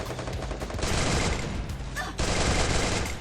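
Rapid automatic gunfire sprayed from a gun in a first-person shooter game, a dense continuous burst with a brief gap and pitched ricochet-like ping midway, loud and close throughout with no talking.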